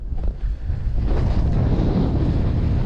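Wind blowing across a frozen river during spring ice fishing, a rough, steady gusting rush buffeting the microphone, loud and close with no voices.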